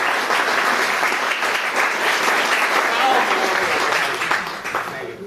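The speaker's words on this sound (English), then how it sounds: "Let's give her a big round of applause" An audience at a poetry reading applauds a poet, a full, sustained burst of clapping from many hands that swells, holds steadily and then thins out near the end, with faint crowd murmur beneath.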